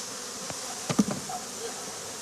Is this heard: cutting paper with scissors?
no